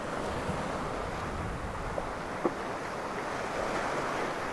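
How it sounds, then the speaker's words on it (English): Sea swell rolling onto the rocks at night on a South Wales shore during low tide, a steady close wash of surf with wind buffeting the microphone and a couple of faint knocks. "there's a fair swell building up now"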